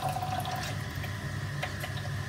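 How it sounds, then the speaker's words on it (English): Water pours into a container in a short, steady splashing trickle, close and fairly quiet, with no talking. "now we just put the water"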